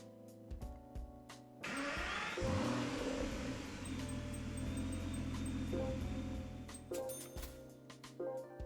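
Race car engines in the video game Gran Turismo 5 at the Monza circuit, a sustained mid-pitched engine drone that comes in after a short pause, alone with no voices.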